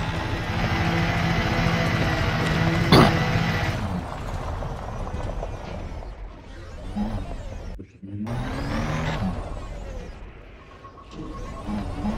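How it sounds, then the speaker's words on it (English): Bumper cars in a video game, a dense, busy mix of engine whirring and collision noise with a sharp bang near the start, then rising and falling whooshes and clatter that stays loud throughout. "Oh, bumper cars."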